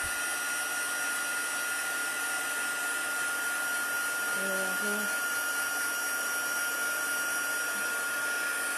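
A heat gun blows steadily while melting embossing powder on a card, giving a continuous loud whooshing drone that does not vary. A faint voice is briefly heard beneath it.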